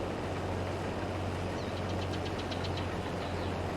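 Steady drone of a Case Axial-Flow 9250 combine harvester engine at around 2160 RPM in Farming Simulator 22, a constant low hum with a faint rhythmic ticking rising briefly over it.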